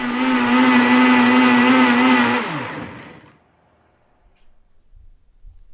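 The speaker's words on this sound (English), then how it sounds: "I'm going to put some of it in a blender and make it a little bit more smooth" A countertop blender purees mushroom soup with a loud, steady whirring motor for about two seconds, then winds down with a falling pitch and stops, leaving near silence.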